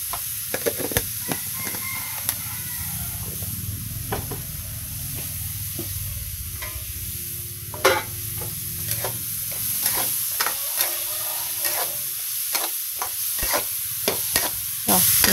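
Ginger sizzles steadily as it is sautéed in a pan for vegetarian ginger porridge, with sharp clicks and scrapes of stirring breaking through the frying hiss; close and fairly loud, with no talking.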